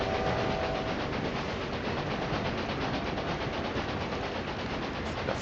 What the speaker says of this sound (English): we're going to join our steel train arriving in Paris here